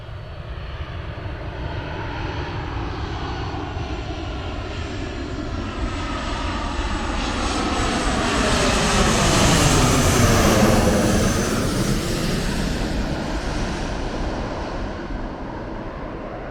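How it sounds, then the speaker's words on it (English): An incoming plane passes low overhead on approach near Permatang Damar Laut, its engine roar building to a loud peak and then fading, with a sweeping pitch shift as it goes by. "staying here means I will be living under the path of incoming planes"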